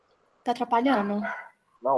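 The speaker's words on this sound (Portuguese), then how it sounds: "vocês estão escutando o cachorro latindo?" A dog barks a few times in the background during an online evening class presentation, partly under a woman's speech.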